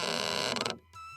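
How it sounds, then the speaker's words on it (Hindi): A door slowly creaking open in a quiet night-time room, a drawn-out creak with mechanism rattle that cuts off abruptly, fairly faint and heard alone. "दरवाजा धीरे से खुला।"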